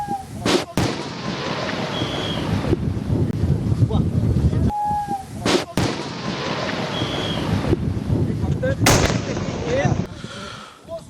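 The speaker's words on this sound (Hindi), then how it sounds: "तो ये धमाका हुआ है।" A Pakistani missile is set off by detonator near a village in Jaisalmer, Rajasthan, producing a sharp blast followed by several more booming bangs and rumbling wind noise, with a voice talking over parts of it.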